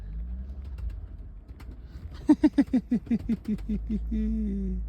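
A pet bird coos close by in a quick, rhythmic run of about nine low throaty notes, then trails off into a softer murmur.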